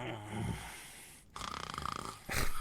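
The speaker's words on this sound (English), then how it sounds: "and soon enough I heard his snoring" A man snores while asleep on a bed, with rough, rasping breaths at close range that rise and fall in loudness across a couple of seconds, alone with no talking.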